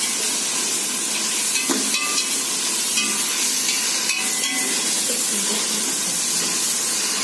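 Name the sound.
onions frying with whole spices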